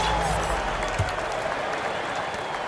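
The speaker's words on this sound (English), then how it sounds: "Please give a big round of applause for your Kings." Crowd applause rises from an arena in a basketball video game, a steady wash of clapping and cheering under a commentator's voice.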